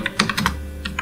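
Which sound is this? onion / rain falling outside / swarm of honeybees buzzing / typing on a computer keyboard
typing on a computer keyboard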